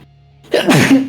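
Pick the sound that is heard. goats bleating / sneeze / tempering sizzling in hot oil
sneeze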